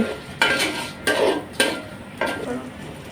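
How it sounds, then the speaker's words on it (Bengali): Rice sizzles in a pan with onion and spices while a utensil scrapes and stirs it in four or five distinct, close strokes. "এই পেঁয়াজ মশলার সঙ্গে এইটাও ভেজে নেব তো চালটাও ভেজে নিচ্ছি"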